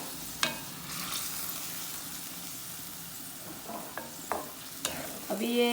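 Chicken simmering in a pan with water for Chinese rice, a soft sizzle with occasional scraping stirs and a few sharp utensil taps, close and without speech.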